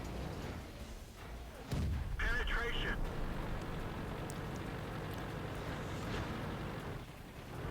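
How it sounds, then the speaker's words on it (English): The T110E5 tier 10 heavy tank fires its gun in World of Tanks, a single dull, muffled thump heard beneath someone talking, with low game rumble continuing around it. "I am not a huge fan of the gun sound effect on the T110E5"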